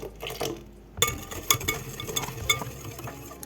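A hand whisk beats orange cake batter in a bowl, giving quick irregular clinks and scrapes against the side with short pauses, close and fairly quiet.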